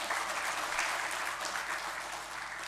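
An audience at an engineering college induction program in a hall claps together in a steady, moderately loud wash of applause that lasts a few seconds without easing.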